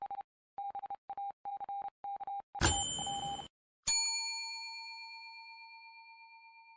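A series of short, even electronic beeps leads into two separate struck bell tones, each ringing clearly and fading slowly into quiet.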